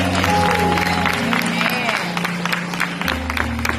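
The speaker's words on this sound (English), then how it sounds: "I feel like that deserves a round of applause in itself" Applause from an audience at a speaking event, steady crowd clapping mixed with murmuring and a low hum, fairly loud and continuous throughout.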